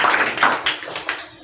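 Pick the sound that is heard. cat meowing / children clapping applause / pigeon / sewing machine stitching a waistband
children clapping applause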